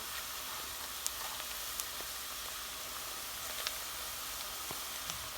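Onions frying in a pan with a steady, quiet sizzle and hiss, broken by occasional small pops and crackles, with no one talking.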